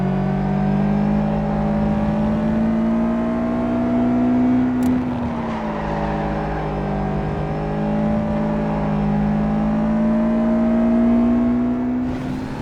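Car engine in the Gran Turismo racing game on PSP, a loud continuous synthesized drone that holds steady pitch, dips briefly as if shifting gear, then climbs again, with no talking over it.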